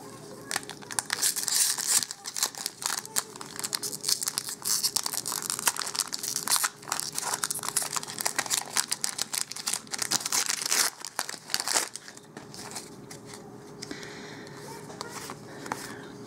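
A Battle for Zendikar trading card pack wrapper is torn open, with close crinkling foil and sharp tearing crackles in dense bursts, easing into quieter rustling toward the end.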